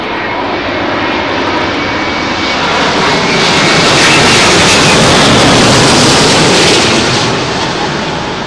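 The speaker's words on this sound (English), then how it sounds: "Airbus originally developed that 380 with no reversers, quite confident that it was capable of braking under its own wheel braking power" Airbus A380 airliner landing at London Heathrow on runway 27L in windy conditions, braking on arrival: a loud, steady broadband jet roar that swells toward the middle and stays close throughout, with no talk.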